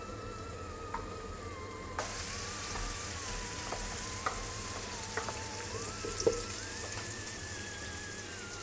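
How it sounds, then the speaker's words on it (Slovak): Bacon fries in a pan with a soft, steady sizzle. It turns brighter partway through, with a few light clicks and taps from the pan, close and fairly quiet, and no one talks. "môžeme si osmahnúť slaninu, ktorú použijeme potom nakoniec pri servírovaní"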